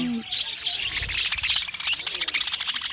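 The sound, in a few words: birds chirping while being hand-fed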